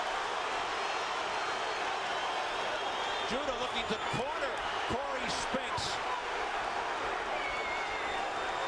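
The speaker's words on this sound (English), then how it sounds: "The crowd urging Spinks on." Boxing arena crowd at a Zab Judah versus Cory Spinks fight roars steadily behind a commentator's voice, with a continuous wash of cheering throughout.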